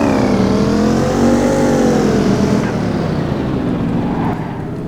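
A Porsche Cayenne Turbo SUV accelerates in the City Car Driving game, its loud, steady engine note rising in pitch as it pulls away on a rainy, icy map, then easing off near the end.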